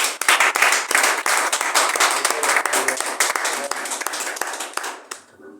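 A church congregation claps together in acclamation, a dense burst of many hands with some rhythmic beats that fades out over a few seconds, with faint voices mixed in.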